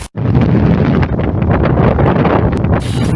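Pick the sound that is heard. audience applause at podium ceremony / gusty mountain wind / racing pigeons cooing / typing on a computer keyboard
gusty mountain wind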